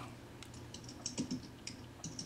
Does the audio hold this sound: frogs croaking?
no